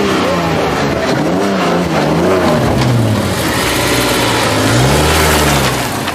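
A loud car engine turns over from a push-button starter and revs unevenly, its pitch rising and falling, with a rough rattling running through it.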